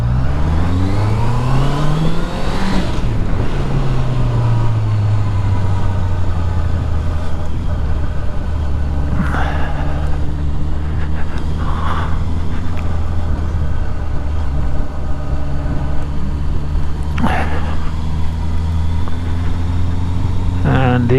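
A Jaguar car drives past on a residential street with a rising engine whir and tire noise. The passing vehicle sounds under a steady drone from the recording vehicle's own engine, with occasional voices.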